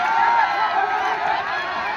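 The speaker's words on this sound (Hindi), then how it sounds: "एक बार जोरदार ताली से नेताजी का स्वागत किया जाए" At a wrestling dangal, a large outdoor crowd sends up a dense, continuous wash of clapping and cheering to welcome a politician, sustained and fairly loud throughout.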